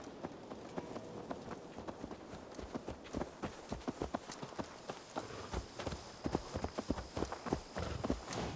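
Horse hooves clip-clopping in Assassin's Creed Valhalla on PS5, a quick irregular run of sharp hoof clops growing slightly louder over a soft ambient bed, no one speaking.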